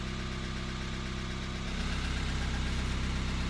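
A car engine idles with worn hydraulic tappets, giving off a steady mechanical rattle over a low, continuous rumble that grows slightly louder partway through. It sounds near and even, with no talking.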